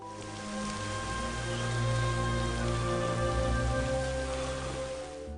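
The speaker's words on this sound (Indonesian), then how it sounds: "saat itu hujan turun dengan deras" Heavy rain pours in a dense, steady hiss that swells slightly and holds at the same level throughout, with a low sustained hum running underneath.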